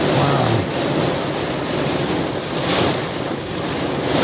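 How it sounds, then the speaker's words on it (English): Heavy rain from Hurricane Ian pounds down in Florida, a loud continuous roaring wash with gusting swells and low rumbling undertones, heard up close without a break. "I mean, you can see the rain. It's just really pouring hard."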